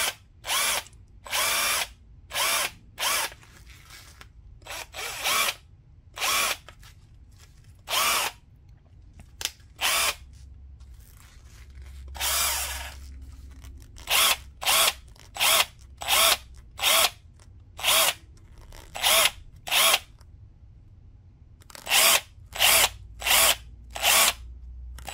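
A Princess Auto cordless impact wrench motor runs in repeated short trigger bursts, some brief and some longer, with quiet pauses between them and no talking.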